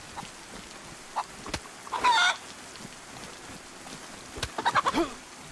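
Chicken clucking in the survival game DayZ, a few soft clucks near the two-second mark and a quick burst of clucking toward the end, faint against quiet background hiss.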